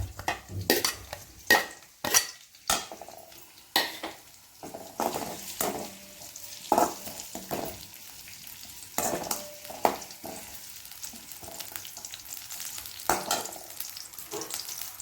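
Chicken sizzles in hot oil while a utensil stirs it, with repeated sharp clinks and scrapes against the pan, close and steady.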